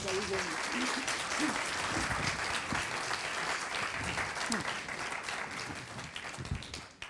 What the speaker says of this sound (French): Et donc, je vous demande de lui faire une ovation